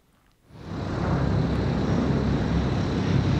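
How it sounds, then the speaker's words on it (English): Airplane roaring overhead in the PS4/PS5 horror game Dreams (Silent Hill 7), surging in after a brief quiet and holding as a loud, steady, broad engine rush with no talk over it. "Oh, the plane."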